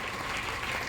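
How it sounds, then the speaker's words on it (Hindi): A crowd at a business award gathering claps in honor of someone, a dense, steady burst of applause heard close. "उनके सम्मान में जोरदार तालियां हो जाएं"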